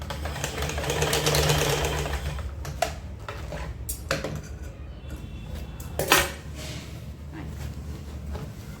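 Stitch Queen sewing machine overlocking the fall edge of a saree, a steady mechanical whir with clattering, rattling bursts throughout and a louder clunk near the end, no voices.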